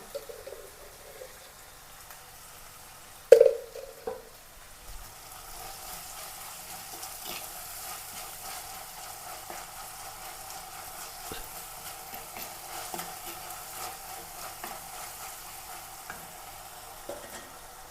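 Low, steady sizzle of ginger, garlic and onion frying in a pan with salt, opening with a sharp clatter from stirring and continuing as a faint, even crackle.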